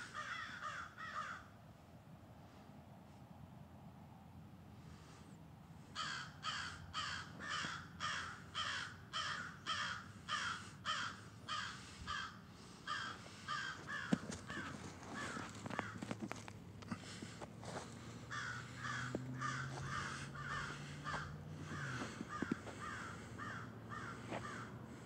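Crows cawing over a small lake bay on a morning walk, harsh repeated calls in steady rhythmic bursts from several birds at moderate distance, with faint footsteps and quiet background.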